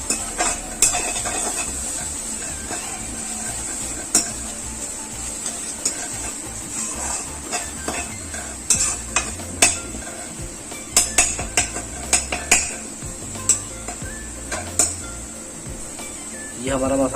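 A utensil stirs and scrapes ground poppy seeds as they roast in a pan, producing clinks and scraping over a low steady hum, with a voice speaking at intervals.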